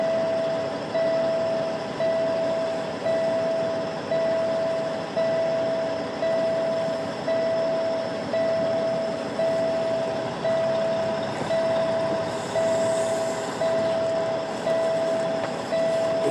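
Truck at a potato loading scale sounding steady, evenly spaced reversing beeps over a constant engine rumble, repeating about once per second throughout.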